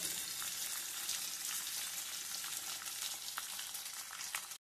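Chopped onions fry in a pan with a steady, dense sizzle that holds close and even, then cuts off abruptly at the end.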